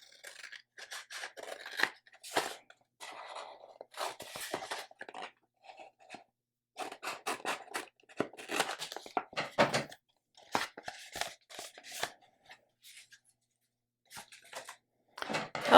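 Heat transfer vinyl being weeded, excess material peeled off the backing sheet in short crackly rips and scratchy pulls, coming in irregular bursts with brief silent gaps, close to the mic and with no talking.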